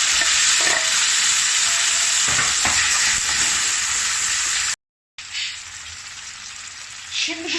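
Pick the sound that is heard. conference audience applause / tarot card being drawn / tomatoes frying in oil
tomatoes frying in oil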